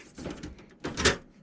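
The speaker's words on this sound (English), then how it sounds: "So the first thing we have to do is open the case." A Dell desktop computer case has its side panel opened, giving a couple of close, loud mechanical clunks and scrapes of the lever and panel, with the larger clunk near the end.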